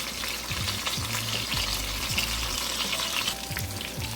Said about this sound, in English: these are browning pretty good here